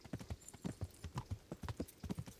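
Horse hooves clip-clop in the medieval video game Kingdom Come: Deliverance, a quiet, steady walking rhythm of about a dozen distinct hoofbeats in a row with no talking.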